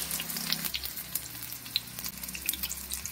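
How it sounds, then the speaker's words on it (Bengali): Chicken pakoras deep-frying in hot oil, a steady broadband sizzle and crackle with scattered pops, alone with no talk. "ফার্স্ট লটের চিকেন পকোড়াগুলো ভাজা কমপ্লিট, আর এখানে চলছে সেকেন্ড লটের চিকেন পকোড়া।"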